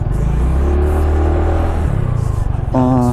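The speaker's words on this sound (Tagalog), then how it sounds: "Iba to, ibang klaseng makina to ah." An FKM scooter engine revs loud and close while being ridden, a steady droning whir that climbs and shifts in pitch as it accelerates, with no talk.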